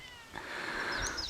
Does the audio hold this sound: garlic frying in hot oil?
no